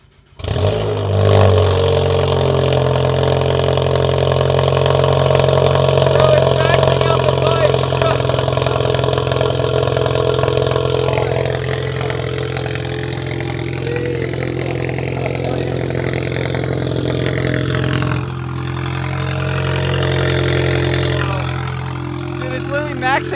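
A BMW 335i with its catalytic converters stolen and no muffler revs loudly, its raw, harsh exhaust roaring steadily for over twenty seconds and shifting pitch as the throttle rises and falls, with voices shouting over it.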